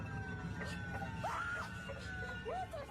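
A camera operator screams in a scary video inside a building, heard as two brief, faint, rising cries over a low background hum.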